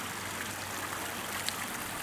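A small stream in the Ardèche flows with a steady, soft wash of water, close and unbroken, with no voices.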